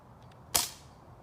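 A Lancer Tactical M82 airsoft sniper rifle fires one shot, a single sharp, close snap that decays quickly in a quiet room, preceded by faint clicks.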